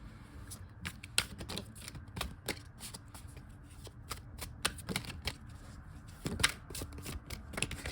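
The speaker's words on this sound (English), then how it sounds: "Y'all see me shuffle them cards." Tarot cards being shuffled, a steady run of crisp riffling flicks and slaps at close range, fairly quiet, with no talking.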